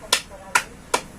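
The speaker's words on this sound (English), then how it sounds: "Let's give them 5 claps." A group claps in unison during a classroom teaching demonstration: three sharp, evenly spaced claps, close and fairly loud, with no talking in between.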